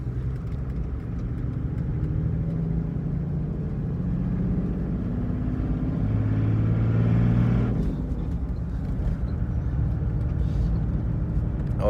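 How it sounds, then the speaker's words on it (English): A 1992 Toyota Land Cruiser HZJ77 diesel engine droning steadily from inside the cabin while driving, a low continuous rumble that swells slightly midway, with no talking. "whenever I hear the sound of the engine, I just kind of get quiet to listen to it because it makes me happy."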